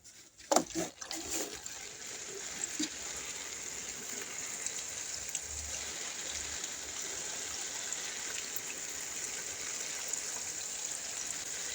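Water poured from a watering can onto plants in a Jamaican backyard garden, a steady soft splashing stream running nearly unbroken after a few brief knocks at the start.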